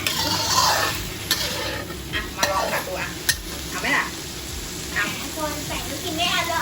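Tofu and minced pork are stir-fried in a pan, with a loud continuous sizzle, scraping stirring strokes and occasional sharp clinks of the utensil against the pan, up close.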